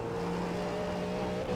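A race car at the Sebring racetrack gives a steady, droning engine note with a sustained tone, heard briefly and at moderate distance without any voices.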